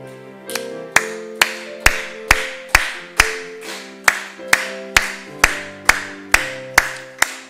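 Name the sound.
congregation clapping along while singing a hymn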